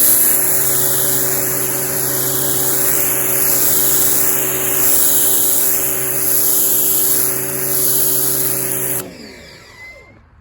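A Sun Joe SPX3001 electric pressure washer sprays loudly and steadily near a surface, its hiss swelling and fading in a regular rhythm before the motor cuts off and winds down.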